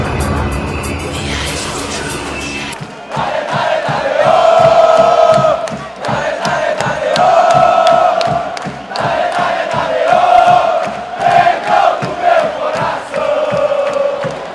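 Flamengo supporters in a stadium in Espírito Santo roar and chant in a rhythmic, pulsing wave, a loud crowd that keeps surging and easing throughout.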